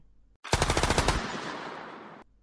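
A machine gun fires a rapid burst of close, loud shots in a sound effect, the individual reports blurring into a sustained roar before cutting off abruptly.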